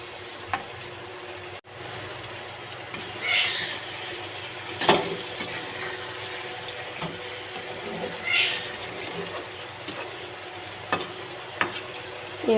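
Spatula stirring chicken-skin masala in a pan, faint scraping and low sizzle broken by a few sharper clinks and louder scrapes, quiet and close, with no talking.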